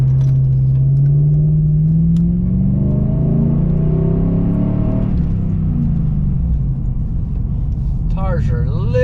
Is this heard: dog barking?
no